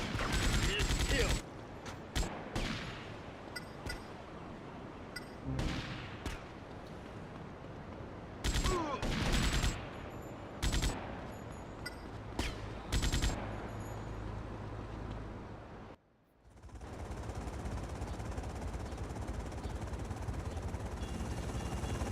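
Bursts of rapid gunfire from GTA: Liberty City Stories come in loud clusters with pauses between, layered with game effects and engine-like drones, while voices talk at times.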